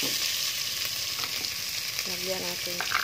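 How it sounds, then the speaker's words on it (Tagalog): Ingredients for a jackfruit nilaga sizzle and crackle steadily in a hot pan while being sautéed and stirred, with a few light utensil clinks near the end. "Gisa muna natin"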